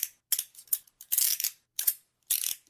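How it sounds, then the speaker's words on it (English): Handcuffs click and ratchet in a series of sharp metallic bursts, about eight quick clicks and short rattles spaced irregularly, close and isolated against silence. "It's handcuffs."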